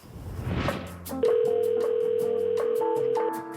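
A telephone dial tone begins after a brief burst of noise, holding a steady, loud electronic hum for about two seconds before cutting off, followed by short dialing beeps.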